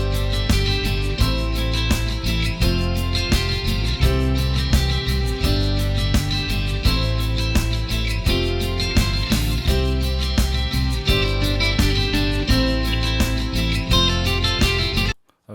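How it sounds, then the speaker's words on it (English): A full, dense acoustic guitar track made for music licensing, with strummed guitar over steady bass and percussion, playing loud and continuous before cutting off at the very end. "This is our acoustic track for music licensing."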